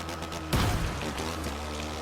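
A motorcycle plunges through a river in The Crew 2, a sudden loud splash and rushing water surge that stays dense and steady after the impact, with no talk.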